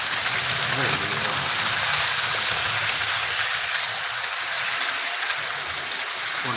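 Model train rolling along its track in a steady, continuous rumble and hiss throughout, fairly loud and close, with no clear breaks.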